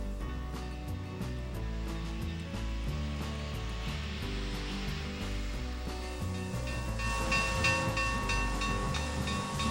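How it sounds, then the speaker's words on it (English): A Challenger steam locomotive releases a steady, loud rush of hissing steam that swells toward the end, layered over the rhythmic mechanical churn of the engine. "The sudden rush of steam looks like a magical cloud the engine rides on."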